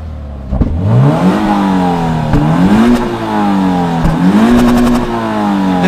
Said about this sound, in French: le son moteur de la GT86